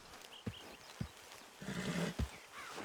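Horse in the video game Red Dead Redemption 2, heard as a few faint, soft thumps of hooves spaced unevenly over a quiet background.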